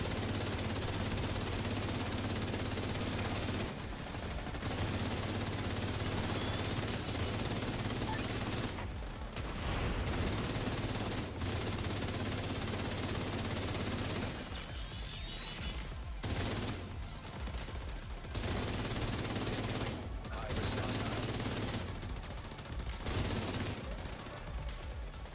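Bursts of video game gunfire crackle around a computer companion sent into the middle of enemy fire, coming in clustered volleys separated by short lulls over a steady droning background.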